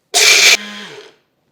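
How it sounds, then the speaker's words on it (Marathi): Kitchen mixer grinder coarsely grinding a roasted urad dal mixture in one short, loud whirring pulse of about half a second, then the blades spin down and fade out within the next half second. "आणि हे मिक्सरला डुरकन फिरवायचं"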